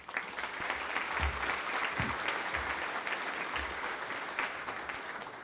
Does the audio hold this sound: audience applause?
yes